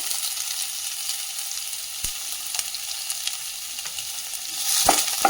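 Chopped garlic and onion with green chilli frying in a pan for a North Indian-style pumpkin masala, a steady close sizzle and crackle with a few sharp stirring clinks and a louder burst of spattering near the end.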